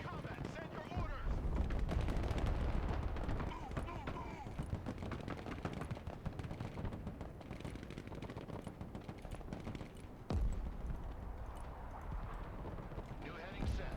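Automatic weapons fire from the Broken Arrow battlefield game, a dense continuous crackle of shots throughout, mixed under radio-style voice callouts from the game's soldiers.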